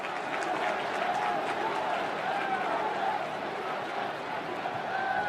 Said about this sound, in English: the crowd beginning to get into it right now